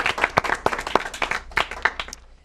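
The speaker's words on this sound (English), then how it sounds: "let's give him another round of applause." A live television debate audience claps for a speaker, with quick, dense, uneven claps that trail off and fade over a couple of seconds.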